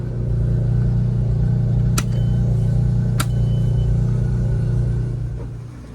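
Boat motors turning over and settling into a steady idle, a loud continuous low rumble broken by two sharp clicks partway through, the drone easing off near the end.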